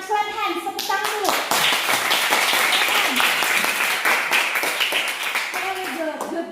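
A classroom of children claps their hands together in a dense burst of rapid, overlapping claps, with a teacher's voice heard over the start and end.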